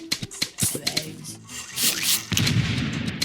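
A cherry bomb goes off in the Plants vs Zombies video game, a broad blast that rises and lingers after a run of clicky, tapping game effects, heard up close with no talk.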